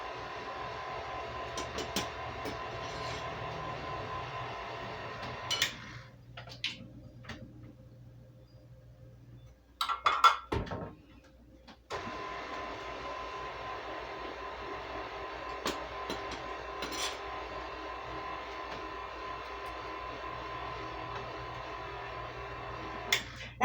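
An electric mixer runs slowly, blending powdered sugar into buttercream frosting with a steady whirring motor hum. It pauses briefly midway, with a few clatters, then resumes its even drone.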